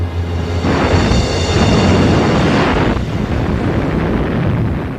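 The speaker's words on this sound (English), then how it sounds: "A series of devastating explosions rocked the Scharnhorst as the torpedoes found their target." Torpedo explosions striking the German battlecruiser Scharnhorst in World of Warships, a loud sustained roar of blasts and rumbling that swells after a moment and persists through the clip, with no talk.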